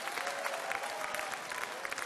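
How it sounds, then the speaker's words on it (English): A crowd at a political rally in downtown Fort Wayne, Indiana applauds, a dense continuous wash of clapping for a couple of seconds with a faint murmur underneath. "Nice round of applause, Steve Shine, everybody."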